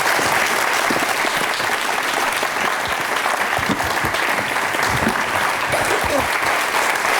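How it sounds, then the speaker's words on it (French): A studio audience applauds at a French TV talk show, the dense clapping steady and full for the whole stretch with no voices rising above it. "Donc on applaudit ce courage de cette famille."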